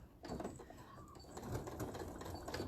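A sewing machine runs in short stitching bursts while sewing a quilt panel, its rapid mechanical chatter close and moderately loud, starting and pausing between runs.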